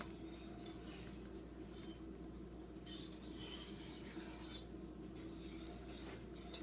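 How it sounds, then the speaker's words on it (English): Beaten egg whites folded into a cheese soufflé base, a soft continuous scraping and stirring of a spatula through thick mixture in a bowl, steady and close, with occasional light clinks against the bowl. "I just use this sort of folding method"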